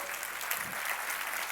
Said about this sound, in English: Can I hear a big round of applause from you guys?